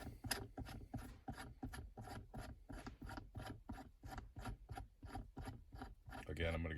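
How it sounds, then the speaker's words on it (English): A shift knob adapter being installed in a 2019 Dodge Challenger R/T Scat Pack Wide Body, heard as a close, quiet run of rapid, evenly spaced ratcheting clicks, about two per second, with a brief rustle at the end. "I'm going to go ahead and install the new adapter."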